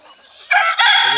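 An Egyptian Fayoumi rooster on a farm gives one loud, close crow. It opens with a few soft clucks, then a sharp two-part call that rises abruptly and holds to the end.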